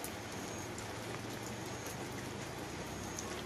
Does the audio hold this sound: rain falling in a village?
yes